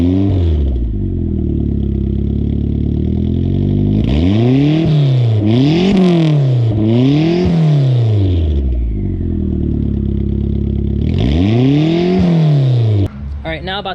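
A turbocharged Mazda Miata with an ISR exhaust revs through several light pulls while warming up, the engine note climbing and falling in a loud, close rhythm over a steady idle, with a sharp clatter at the end.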